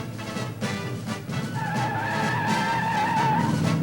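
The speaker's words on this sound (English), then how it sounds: "Our Javelin wasted no time coming off the line." AMC Javelin with a 3-speed automatic on Goodyear E60-15 tires launching hard off the line, a loud engine roar building as a sustained high tire squeal rises and holds.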